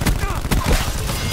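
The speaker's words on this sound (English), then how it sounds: "Firing sensor dart." A sensor dart launched in Call of Duty Black Ops 4 gameplay, a sharp burst of gunfire-like shots with a punchy transient midway, heard over dense game noise.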